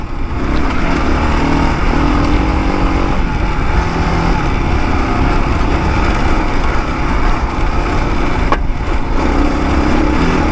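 Kawasaki KLR 650 single-cylinder motorcycle engine running steadily while riding over rocky single track, a loud continuous drone with uneven throttle and rattling over rough ground, no talk.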